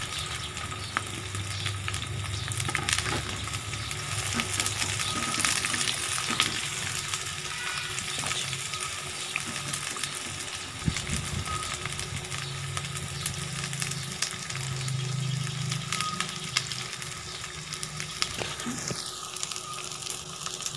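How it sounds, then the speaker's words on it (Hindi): Onions fry in ghee for beef keema-stuffed karela, giving a steady, moderately loud sizzle with crackling and occasional stirring scrapes, continuous and close, without speech. "आप पहले ये प्याज है इसको घी में फ्राई कर लेना है, जो हमने लिया था प्याज डालना है।"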